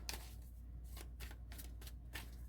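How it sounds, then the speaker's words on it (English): Tarot cards being shuffled during a reading, a steady run of crisp riffling bursts repeating about every half second, soft and close with no talk. "We shuffle with intention because we really want to know"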